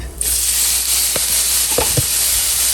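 Shrimp hitting a hot pan for egg rolls: a sharp burst of steady sizzling that stays loud and bright throughout, with a few faint utensil taps near the end.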